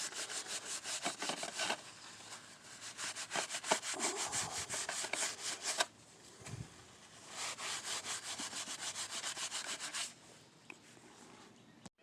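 Rusty metal on an old engine hoist is wet-sanded by hand in repeated rapid back-and-forth strokes, bursts of close, raspy scrubbing with short pauses between them.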